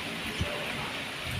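Steady wind-driven rain outside during a storm, a dense constant hiss of rainfall with a brief low gust near the start, moderately loud and without pause.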